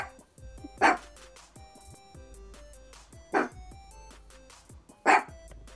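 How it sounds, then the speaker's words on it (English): A dog barks three times in separate sharp bursts, fairly close and loud, with quiet indoor room tone between barks and no talking. "No barking!"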